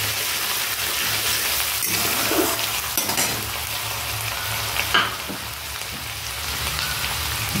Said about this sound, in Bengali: যে পেঁয়াজটা একটু ভাজা ভাজা হবে, একটু কষিয়ে নেবো